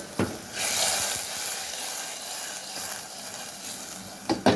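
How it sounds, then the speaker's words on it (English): Red lentils simmering in a pot give off a steady, fairly loud sizzling hiss with steam noise throughout, no voices, and a couple of brief sharper clatters near the start and end. "now it's boiling, it's simmering"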